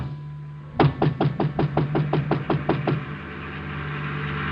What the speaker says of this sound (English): And I knocked on the door.